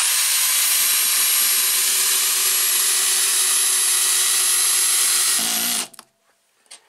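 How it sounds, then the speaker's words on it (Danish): A Skil 3071 cordless drill drives a screw into wood with a steady, loud, high motor whine lasting about five and a half seconds, then stops abruptly, leaving brief faint clicks. "den her overhovedet ikke nogen problem med at skrue de her skruer i"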